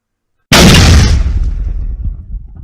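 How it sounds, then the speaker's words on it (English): A pirate ship's cannon fires a single warning blast, a sudden loud explosive boom after a moment of silence, followed by a long rumbling decay that fades over a couple of seconds. "A pirate ship's cannon fires a warning blast"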